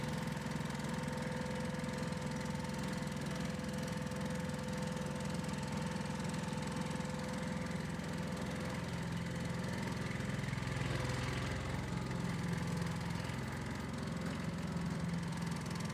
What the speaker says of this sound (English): That's just to show you the fast and slow setting of the machine.